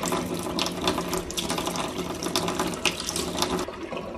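Warm water runs from a tap into a bottle in a steady, close, splashing stream that fills evenly for a few seconds with no talk.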